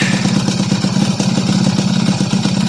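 A motorcycle engine fitted with an original Mikuni carburetor runs steadily just after a kickstart, a close, loud idle with an even, rapid putter and no talking.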